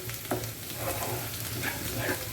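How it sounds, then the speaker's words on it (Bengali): Onion frying in a pan makes a steady, close sizzle with a few soft scrapes of stirring. "পেঁয়াজটা যতক্ষণ না নরম হচ্ছে ততক্ষণ আমি ভেজে নিচ্ছি"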